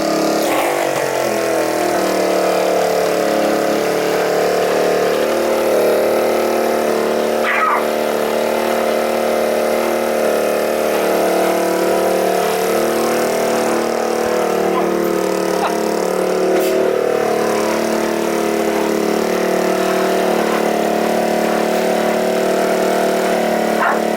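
A minibike engine idles steadily with a continuous low, pulsing exhaust throb, loud and close, holding an even level for the whole stretch with no voices.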